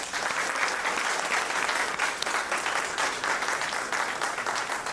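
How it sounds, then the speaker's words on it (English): Audience applause for the artists at an art exhibition opening in the Bahamas, a dense, even burst of many hands clapping, sustained and fairly loud from start to finish. "give a big round of applause to all of"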